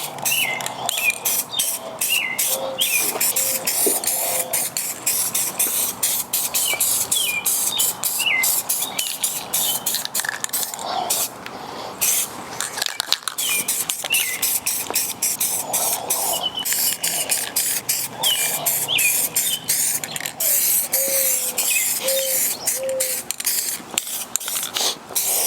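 A spray can hisses steadily and close up while a second wet coat of paint is laid on, with the continuous spray broken only by brief pauses and faint rattles.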